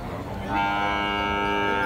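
Dairy cow at a cattle market lets out a loud, close, sustained moo that swells and holds, with low market noise beneath.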